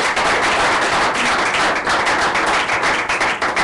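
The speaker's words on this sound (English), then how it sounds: "One more big round of applause for our" A lecture audience breaks into sustained, loud applause, many hands clapping together in a thick, even roar that holds throughout.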